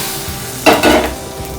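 A brief burst of sizzling as dried red chillies drop into hot tempering oil, loud and close, fading after about a second.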